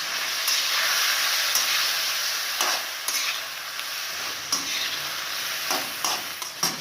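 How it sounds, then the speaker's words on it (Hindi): Chopped, peeled tomatoes stirred into chicken keema frying in a karahi: a steady loud sizzle with scraping spatula strokes at irregular intervals, no talk. "2 कटे छोटे छोटे चॉप किए हुए टमाटर हैं, 2 हैं, और मैंने इनके छिलके उतार लिए थे, ठीक है। तो अब ये इसके अंदर मिक्स करेंगे।"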